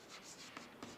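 A short, faint stretch of chalk or marker strokes on a classroom board, soft scratchy rubbing in a few quick bursts, with no voice over it.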